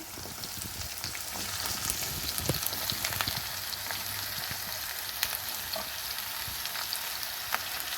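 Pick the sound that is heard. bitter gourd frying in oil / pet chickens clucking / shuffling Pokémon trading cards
bitter gourd frying in oil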